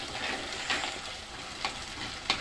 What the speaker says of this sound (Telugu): మంచి ఫ్రై అవుతుంది మసాలా.